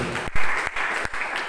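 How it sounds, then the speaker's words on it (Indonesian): A church congregation breaks into loud, steady applause, dense clapping filling the moment with a few sharper bursts along the way. "Beri tepuk tangan terbaik."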